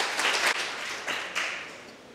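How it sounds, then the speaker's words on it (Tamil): An audience at a Tamil literary event claps to welcome a speaker to the stage, a moderate, fairly close burst of applause with a few sharp individual claps, fading toward the end. "அனைவரும் பெருத்த கரகோஷத்துடன் அவரை வரவேற்போம்."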